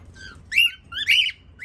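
Pet lovebirds outdoors give a few short, sharp squawks and whistling calls in bursts, fairly close and loud over a quiet background, with no talk during the calls.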